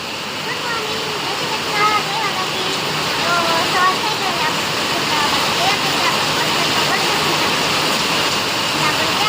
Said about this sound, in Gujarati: ધીરો હમણાં વધી ગયો વરસાદ, સારો પડી ગયો.